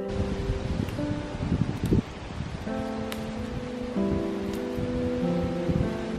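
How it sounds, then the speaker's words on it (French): Gusty wind buffets outdoors with rustling leaves, the gusts swelling and easing, while thin tonal chirps sound intermittently in the background. "il y a pas mal de vent, je sais pas si vous m'entendez"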